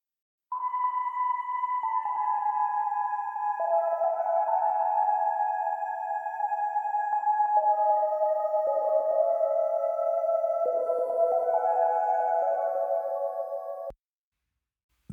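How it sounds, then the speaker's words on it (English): A synth line doubles the chorus of a pop song featuring a female vocalist, playing sustained electronic tones that step between pitches in a steady phrase, heard alone and clear for about thirteen seconds before cutting off. "every time the chorus is going on, it's actually being doubled by this synth"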